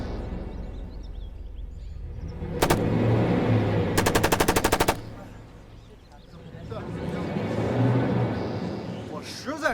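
Rapid bursts of submachine gun fire during rifle and shooting practice, with a short volley followed by a longer rattling burst, loud and close, mixed with voices talking in between.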